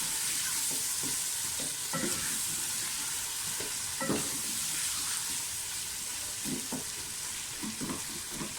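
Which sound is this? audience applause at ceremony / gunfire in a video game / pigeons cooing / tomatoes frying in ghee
tomatoes frying in ghee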